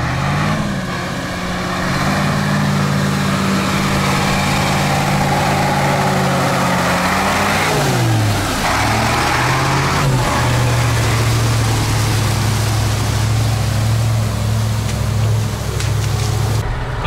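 A Ural truck drives through a cornfield with ruts toward a stuck KamAZ 6x6, its heavy diesel engine droning loud and steady, pitch dipping briefly midway as it changes load, no voices.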